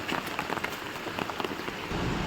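Steady rain patters densely on a surface during heavy flooding weather, a close, even spray of drops lasting a couple of seconds.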